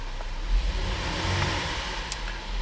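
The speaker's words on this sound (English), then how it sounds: "I'm going to rev the engine." A 2009 Buick Enclave CXL idles in park with a low, steady engine rumble that swells briefly into a modest rev, moderately close, with no talking.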